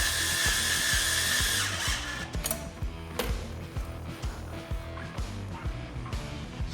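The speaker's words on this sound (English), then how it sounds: "Using the same bolts as before, and we'll tighten them up." Rear sprocket bolts on a dirt bike tightened with a power tool: a rapid rattling, hammering burst that breaks into a series of short regular pulses, close and fairly loud, with no talk.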